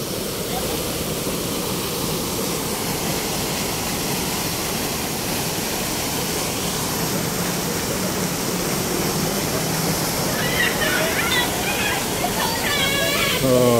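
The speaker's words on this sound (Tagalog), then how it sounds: "ang ganda ng fountain, mataas tingnan no?" A tall water fountain in an urban plaza in BGC, Taguig, Philippines, splashes in a steady, loud, broadband wash that runs throughout, with faint voices nearby and some brief chirpy sounds near the end.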